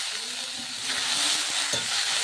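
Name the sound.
potatoes frying in a pan with turmeric and salt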